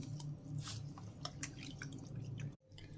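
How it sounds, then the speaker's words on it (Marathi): Raw mutton being rinsed by hand in water, with close, continuous wet splashing and sloshing broken by a short silent gap near the end. "एकदम मस्त स्वच्छ खळखळ पाण्याने धुवून घेऊ दोन तीन पाण्याने"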